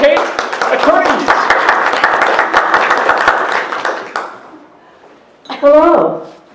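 A round of applause from a seminar audience for a speaker on educating attorneys, with crisp close claps that swell and then thin out and stop, and a single voice speaking right after.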